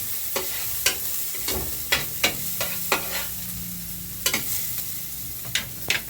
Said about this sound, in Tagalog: Ating igisa lang para hindi masunog.